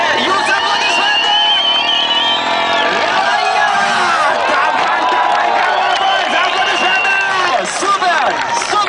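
Arena crowd at a mini dirt bike stunt show in Kaunas cheering, whooping and applauding loudly and continuously, a dense roar of voices and whistles filling the space throughout.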